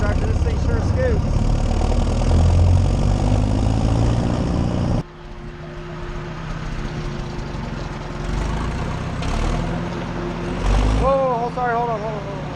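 A small White 100 utility tractor engine drones steadily at close range, its low rumble shifting in tone partway through, with a person talking over it.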